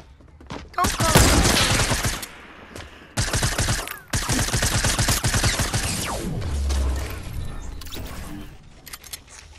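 Video game gunfire, rapid bursts of automatic shots in several loud clustered volleys with short gaps between them, close and dense.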